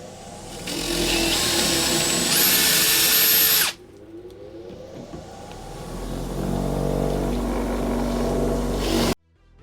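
An electric drill spins a grinder to lap engine valves. A steady high whine runs for several seconds, stops abruptly, then winds back up into a long, loud grinding whir before cutting off sharply.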